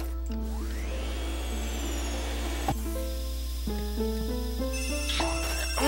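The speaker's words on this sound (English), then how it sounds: "Oh my god, phone, what is your problem?" A phone ringtone plays alone as a rising then stepped electronic melody of repeated tones, loud and steady over a constant low hum.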